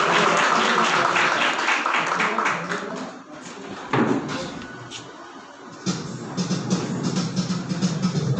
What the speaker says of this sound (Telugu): వారికి ఒకసారి చప్పట్లు కొట్టి అభినందించండి